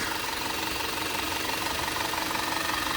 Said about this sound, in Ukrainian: Двигун працює адекватно.